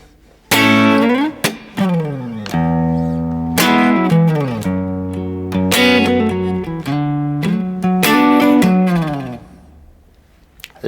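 Electric guitar playing a chord pattern over four bars, ringing chords with hammered embellishments and slides, loud and close, alone and fading out at the end.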